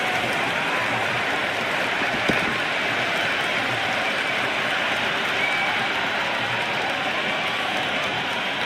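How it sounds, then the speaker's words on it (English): Dense, steady roar of a cricket stadium crowd at an India vs England T20 match, a continuous wash of cheering and applause, loud and unbroken throughout. "It's evident and ever so audible that the crowd is at near bursting point at today's play."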